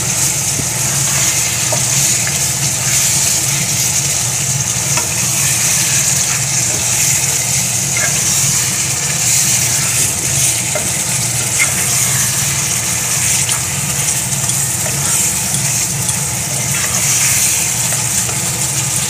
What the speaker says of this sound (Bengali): দিয়ে এবারে আরও কষাবো।